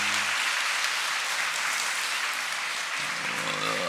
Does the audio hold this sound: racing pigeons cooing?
no